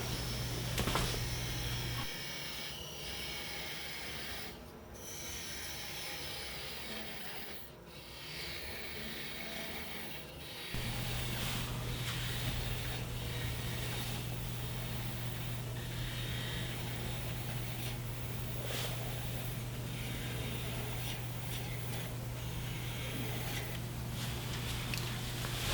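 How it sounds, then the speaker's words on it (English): A parting tool cuts a maple and bocote lidded box free on a wood lathe, a steady humming motor with a continuous scraping, hissing cut that dips briefly in the middle and then resumes. "then I'll come in with a parting tool and cut this off"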